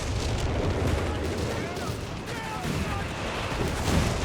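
A 6-pounder anti-tank gun fires amid a dense, continuous battle din of artillery and gunfire in the Company of Heroes 3 game, a loud rumbling wall of booms with a voice talking over it.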